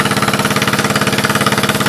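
A 1974 Case 220 garden tractor engine running steadily close by, with a fast, even chugging pulse and no talk.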